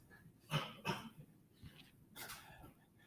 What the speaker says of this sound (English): I assume that cough was unrelated.